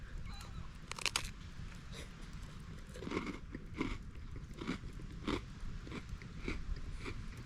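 Freeze-dried ice cream chewed close up during an off-road side-by-side and quad trip, giving repeated crunchy bites and munching at a steady pace over a low outdoor rumble.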